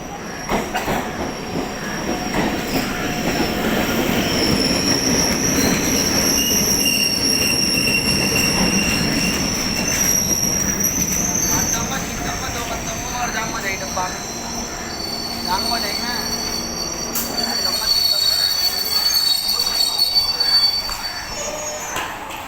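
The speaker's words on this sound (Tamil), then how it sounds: "நான் ட்ரெயின் வரும்போது லாக் பண்ணுறேங்க." Suburban train pulling into Chennai Fort station, its wheels letting out a sustained, piercing metallic squeal over a steady rolling rumble that fades near the end.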